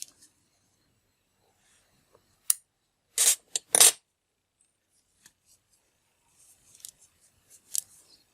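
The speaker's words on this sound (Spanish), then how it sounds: "Estiramos el hilo y cortamos." Scissors snip crochet thread in a few sharp, close cuts, clustered in a quick burst, then lighter snipping and rustling follow in an otherwise quiet space.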